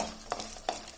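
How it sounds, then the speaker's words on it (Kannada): Red chillies frying in a pan over a medium flame for a garlic chutney, a soft steady sizzle broken by two brief stirring scrapes. "ಫಸ್ಟು ರೆಡ್ ಚಿಲ್ಲಿನ ಫ್ರೈ ಮಾಡ್ಕೊಳ್ಳಿ"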